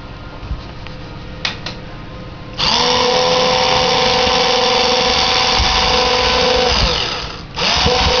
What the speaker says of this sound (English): So we're gonna keep drilling here.